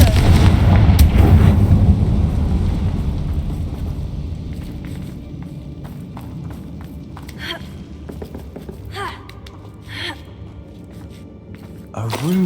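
Confringo spell explosions in the video game Hogwarts Legacy, opening with a loud, booming blast that rumbles and fades, followed by scattered sharper cracks and impacts of combat under occasional voices.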